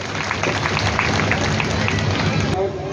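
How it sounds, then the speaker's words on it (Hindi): A crowd at a Shrimad Bhagwat Katha gathering in Naigaon claps loudly and steadily for about two and a half seconds, a dense, continuous wash of applause that drops off slightly near the end. "एक बार जोरदार ताली"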